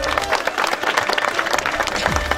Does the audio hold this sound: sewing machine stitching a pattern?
no